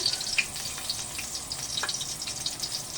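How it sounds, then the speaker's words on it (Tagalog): Garlic sautéing in a pan, a soft steady sizzle and crackle with a few light stirring scrapes, close but fairly quiet and with no talk. "Magigisa muna tayo ng ating"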